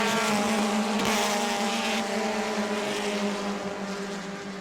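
Stock race cars in a Hoosier Series race at New Smyrna drone loudly past on the final lap, a dense, sustained engine roar that fades slightly toward the end.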